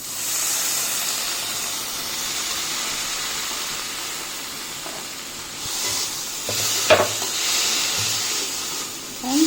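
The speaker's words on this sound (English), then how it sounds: "Add tomatoes." Tomatoes go into a hot pan of Indian kadai paneer gravy with bell peppers, giving a steady broadband sizzle and hiss throughout, with a brief clatter of stirring near the end.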